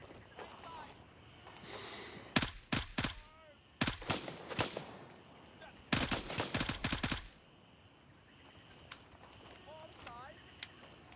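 Several bursts of gunfire in the Gray Zone Warfare video game during night combat, sharp loud volleys in clusters separated by quieter stretches, with faint voices and ambient noise between.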